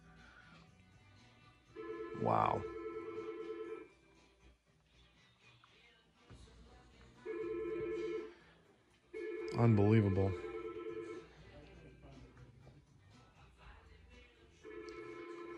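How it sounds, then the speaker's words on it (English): An electronic telephone in a model train store rings in repeated bursts of warbling tones, with someone speaking over it between rings. "the phone has not stopped ringing"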